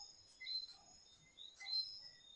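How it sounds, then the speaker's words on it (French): Crickets chirp outdoors on a fine evening: faint, high, steady trilling with a few sharper chirps in two loose clusters, distant and quiet with no talking. "Vous entendez les grillons?"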